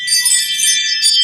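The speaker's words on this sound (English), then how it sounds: "Ooh, chimes. Are you outside? Oh no, it's just someone keeps passing by the doorbell." A doorbell chimes in a steady, bright ringing that runs through the whole short moment, fairly loud and close, with no talking over it.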